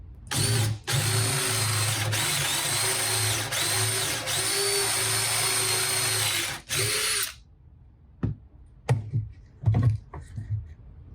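A power drill runs steadily for about seven seconds, boring a hole in wood with a Forstner bit, then stops; a few sharp knocks and handling clatters follow in the quieter tail.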